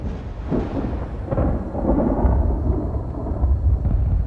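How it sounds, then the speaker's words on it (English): Low, continuous thunder rumbling in the distance, with a steady wash of rain-like noise underneath and slow swells in loudness. "They have this rumble, this distant thunderstorm quality, which I really liked."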